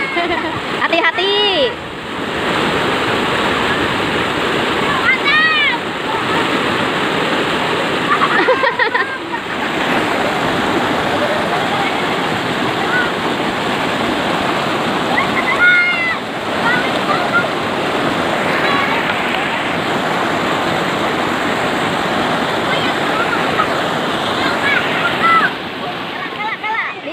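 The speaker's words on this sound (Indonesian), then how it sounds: "Anak-anak pada seneng kalau mandi, ini udah kebiasaan anak-anak di sini mandi di sungai." Children bathe in a village river, and splashing and rushing water sounds continue loudly across the whole stretch. Voices are mixed in, with brief dips and bursts of splashing.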